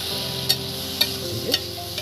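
Onions fry in a pan for a masala dosa filling, with a soft steady sizzle and a few light scraping strokes of a spoon.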